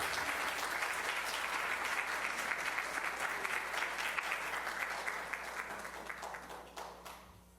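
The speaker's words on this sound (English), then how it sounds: "Another round of applause for Jeanette Eggert" Audience at a candidates forum applauds steadily throughout, a dense, full round of clapping that fades a little toward the end.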